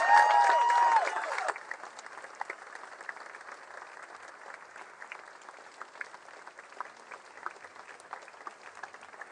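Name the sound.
crowd applause at a vigil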